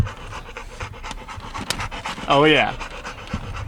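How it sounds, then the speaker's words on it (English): A dog pants in quick, rhythmic breaths close by while people talk over it, with a brief excited vocal warble partway through. "She's a happy dog."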